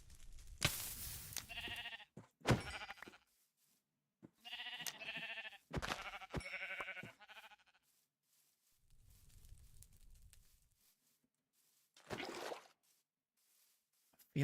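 Sheep in the Minecraft video game bleat several times in short wavering calls, some close together and others spaced apart, with quiet gaps and a soft low rumble between them.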